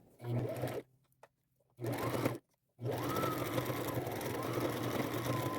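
A sewing machine sews a purse opening with the front plate removed, running in two short bursts separated by pauses, then one longer steady run, close and clear.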